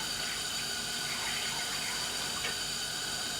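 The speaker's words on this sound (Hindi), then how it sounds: "ये चला गया बीच में थोड़ा सा पानी।" A little water is poured into a pan of chicken boti masala on a stovetop, giving a soft, steady splashing and sizzling hiss throughout with no talk.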